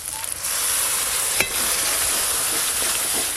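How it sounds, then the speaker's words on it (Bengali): Ginger, garlic and onion fry in oil with chilli powder, cumin powder and a splash of water, giving a loud, steady sizzle with a brief stir partway through. "একটু ভালো করে কষে নিই"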